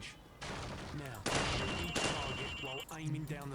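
Rifle gunfire in the Call of Duty 4: Modern Warfare training level, a few loud bursts of shots standing out over ongoing talk, with thuds and game sounds between them.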